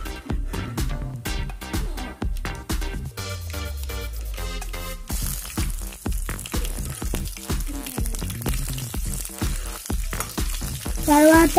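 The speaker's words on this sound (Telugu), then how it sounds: "పెరుగు కోసం తాలింపు గింజలు వేసుకుందాం. ఆవాలు, జీలకర్ర, ఉల్లి వేసుకుందాం." Mustard seeds, cumin seeds and onion tempering in hot oil, a steady sizzle with occasional stirring, heard under continuous background music.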